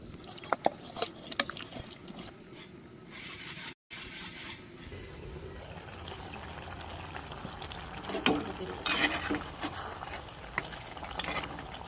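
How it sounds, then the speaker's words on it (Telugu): A curry mixture with curry leaves, curd and lemon juice is stirred in a pan, giving sizzling, bubbling and scraping sounds with irregular clinks of the spoon. A brief dropout falls near the middle. "అన్నీ కలిసేటట్టుగా కలిపేసుకుందాం"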